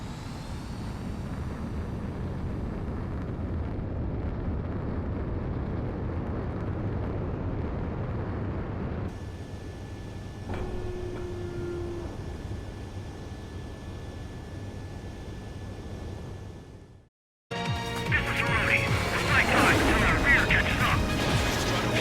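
Ships blown up in an air-combat game, Ace Combat 7 naval raid, heard as a long steady roar of jets and distant blasts, a brief lull and then a sudden loud burst of explosions near the end.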